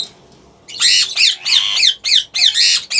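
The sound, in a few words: ringneck parakeet squawking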